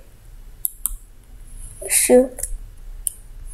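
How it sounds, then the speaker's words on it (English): A few sharp, quick mouse clicks during a Brookhaven game session, with a voice saying a short word in the middle. "Can start clicking fast."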